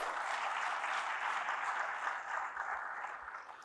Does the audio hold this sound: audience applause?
yes